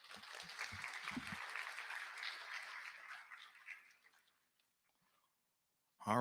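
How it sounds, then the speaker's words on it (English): An audience at a white coat ceremony claps for a woman returning to her seat; the applause is moderately loud at first, then thins and fades into near silence. "Another round of applause as she takes her seat."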